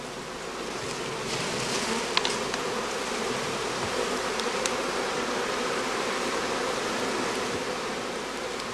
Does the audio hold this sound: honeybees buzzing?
yes